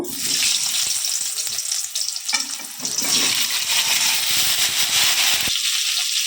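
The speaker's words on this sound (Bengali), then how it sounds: "আলুগুলোকে আমি একটু তেলে ভেজে নেব" Potatoes frying in oil in a pan, a steady loud sizzle with bubbling crackle throughout, briefly dipping near the middle before surging again.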